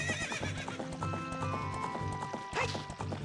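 Epona the horse from the video game Zelda Ocarina of Time gallops with rapid rhythmic clip-clop hoofbeats over game music, then lets out a loud whinny partway through before the hooves continue.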